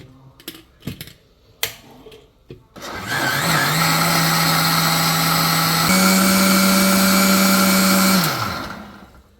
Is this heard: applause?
no